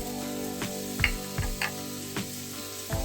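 Vegetables frying in a pan for a ginger pork noodle stir fry, a constant sizzle broken by several sharp clicks and scrapes from stirring, close and moderately loud with no voices.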